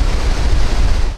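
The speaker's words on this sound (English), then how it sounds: "The river dropping in depth, but still raging." The South Yuba River, swollen and raging after days-long rain, gives off a loud, close, churning roar of turbulent water, with buffeting wind against the microphone throughout.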